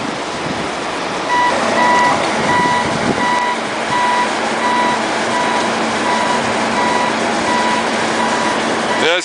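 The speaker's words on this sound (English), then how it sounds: "The excavator's pulling the AquaDam around." An excavator drags a 16 ft tall AquaDam at a prison wastewater pond, its reversing alarm beeping steadily in evenly spaced pulses over a continuous loud engine rumble and broadband machine noise.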